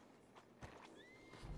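A horse in a Red Dead roleplay game whinnies with a rising high neigh, alongside a few hoof clops and soft snorts, close and fairly quiet.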